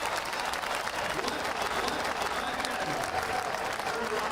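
Crowd at an NHRA drag race applauds and cheers in a steady, dense wash of clapping that carries on evenly from a distance.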